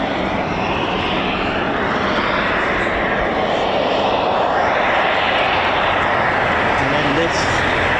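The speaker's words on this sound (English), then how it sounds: "Luftwaffe EF-2000 Eurofighter and the F-15Js of the Japan Air Self-Defense" A Luftwaffe EF-2000 Eurofighter and Japan Air Self-Defense Force F-15J fighter jets fly past, heard as a loud, continuous broadband roar that swells and shifts across the whole stretch.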